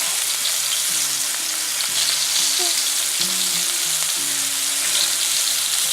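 Mushroom steak pieces browning in a hot pan give off a loud, continuous close sizzle and crackle with no one speaking.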